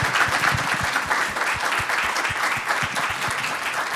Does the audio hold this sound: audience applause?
yes